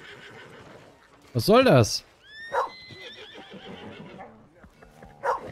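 A horse in the Red Dead Redemption 2 video game gives one loud, close whinny, followed by short snorts and faint hoof sounds, with a voice speaking briefly nearby.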